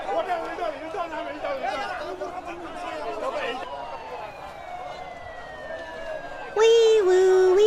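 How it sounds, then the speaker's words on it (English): A two-tone emergency siren, in a place where the ambulances are jeeps, wails through a busy street scene with chatter around it, sweeping steadily in the middle and rising louder and closer near the end. "Wee woo, wee woo. Oh my god, their ambulances are jeeps?"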